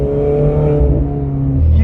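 A Ferrari engine revs loud and close, a steady throaty drone that holds for nearly two seconds and then shifts pitch near the end.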